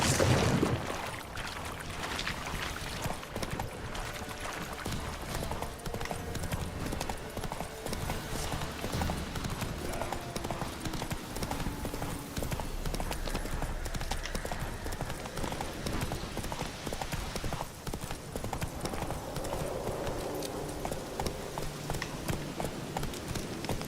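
Roach, a horse in The Witcher 3: Wild Hunt, gallops steadily with a rapid, rhythmic clip-clop of hooves that continues throughout, up close under game ambience and occasional talk.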